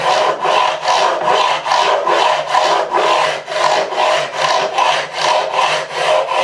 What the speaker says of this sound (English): The only thing we're using a file is it will put deep scratches into the frets.